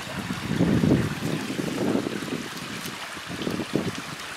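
Water from a burst street leak in Alcamo pours down Via Licurgo like a small river with cascades. It makes a close, continuous rushing and gurgling flow that swells and eases in low surges.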